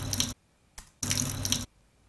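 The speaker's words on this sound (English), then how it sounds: "We've got a simple water sample here in a sink." Water running from a tap into a sink, heard as two bursts of broadband splashing separated by silence, with a short faint splash between them, close and fairly loud.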